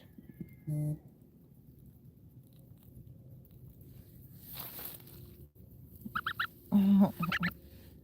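Soft Sebastopol gosling peeps and short honking calls come in scattered bursts, close by, with quiet stretches and faint rustling between them.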